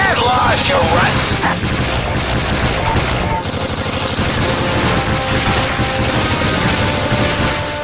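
Gun blasting at enemies in the video game Dark Chronicle, dense repeated bursts of shots over busy game music and effects, loud and close, with a pause near the middle before the firing resumes.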